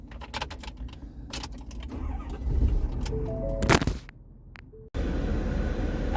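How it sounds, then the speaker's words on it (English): A 2021 Ford F-350 Super Duty Crew Cab DRW diesel truck is started with a turn key: clicks and key jingles, then a loud cranking burst as the engine catches and settles into a rough, heavy idle. "this truck vibrates a lot when it starts"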